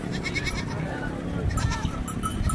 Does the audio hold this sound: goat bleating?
yes